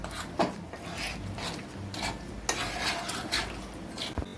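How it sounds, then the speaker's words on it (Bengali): A palm fruit and semolina batter is whisked by hand in a bowl, making irregular scraping, swishing strokes with occasional light clinks against the bowl, close and moderately loud, with no talking. "তাল ও সুজিটা দিয়ে খুব ভালোভাবে আমি ফেটিয়ে নিলাম"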